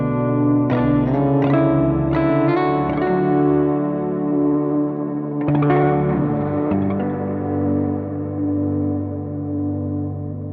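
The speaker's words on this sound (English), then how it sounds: "It turns into like a lo-fi reverb." A Meris Mercury X reverb pedal with its hold modifier engaged turns guitar chords into a grainy, lo-fi wash, with sustained harmonic swells, a burst of fresh attacks midway and a long, smeared decay, loud and with no voices.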